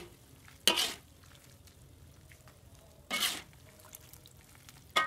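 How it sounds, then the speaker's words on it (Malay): A spatula scrapes and stirs kerupuk atom dough in a large iron wok twice, sharp scraping bursts over a soft, steady sizzle of frying oil. "Kacau macam ini terus sampai dimasak."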